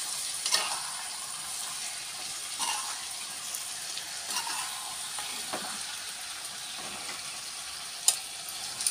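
Potatoes, katla fish and chicken are stirred together in a pan, giving a steady close sizzle of frying with soft scraping strokes now and then and a sharper knock near the end. No one speaks.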